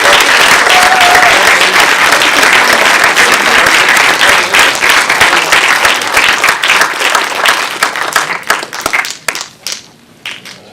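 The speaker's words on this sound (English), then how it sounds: "please, one more round of applause for looking past you" A film festival audience gives a loud, dense round of applause after a Q&A. The clapping thins into scattered claps and fades out near the end.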